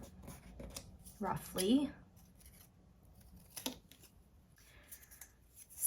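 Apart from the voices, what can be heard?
cutting paper scraps with scissors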